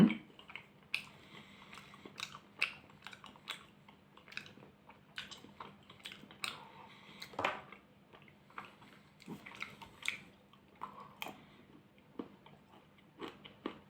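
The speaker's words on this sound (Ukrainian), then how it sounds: "поїхали їсти" Close, quiet chewing of Millennium Fruits & Nuts milk chocolate, with soft crunches and squishy bites coming irregularly over a faint steady hum.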